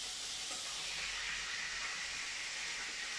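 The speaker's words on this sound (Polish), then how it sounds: "obsmażam jeszcze ostatni kawałek" A piece of meat sears in a hot pan for a keto broth, giving a steady, faint sizzling hiss with no talking.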